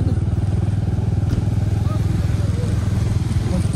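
Motorcycle engine idling or riding at a steady low throb, close and continuous, on a last ride in Upper Mustang.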